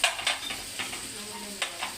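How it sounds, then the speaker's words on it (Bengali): Ginger-garlic paste and onion paste added to already fried onions for a hotel-style nihari, giving a fairly soft, steady sizzle broken by a few light stirring scrapes, with no voices. "এখন আমি দেবো এখানে আদা রসুন বাটা সামান্য পেঁয়াজ বাটা"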